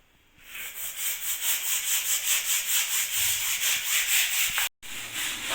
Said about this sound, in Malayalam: ഇനി നമുക്ക് ബ്രഷ് വെച്ച് നന്നായിട്ടൊന്ന് ഉരച്ച് കഴുകിയെടുക്കാം.